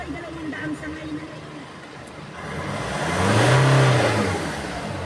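A Nissan Navara pickup with an intermittent low-power fault idles, then its engine revs up in a rising surge, holds near and loud, and eases back down. A voice is faintly audible at the start.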